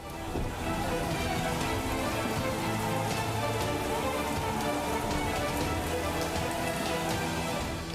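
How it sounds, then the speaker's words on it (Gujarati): Heavy monsoon rain in Dwarka, Gujarat, where streets are waterlogged, pours steadily onto surfaces, a dense, unbroken roar of drops that holds constant throughout. "સતત વરસાદથી અનેક વિસ્તાર જળમગ્ન"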